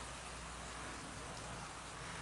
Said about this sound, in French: je suis désolé, il pleut. Ma caméra, elle aime pas ça.